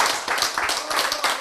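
An audience at a health lecture claps their hands in a quick, steady burst of rhythmic clapping, close and fairly loud.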